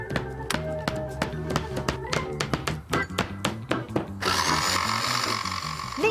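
A jigsaw cuts marine plywood panels with loud, rapid, rattling blade strokes, stuttering in uneven spurts before settling into a steadier, brighter buzz toward the end.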